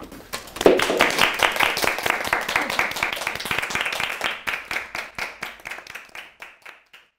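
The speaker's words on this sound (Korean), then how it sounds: "박수!" Clapping and applause from the audience at a Korean musical social club show as the episode wraps up, many hands beating quickly and loudly, then thinning into slower, separate claps that fade out near the end.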